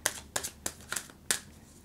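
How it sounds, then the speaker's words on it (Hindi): Tarot cards being shuffled by hand in a series of quick, crisp riffling bursts, about five close, fairly quiet flutters with brief gaps between them. "दोबारा करते हैं शफल।"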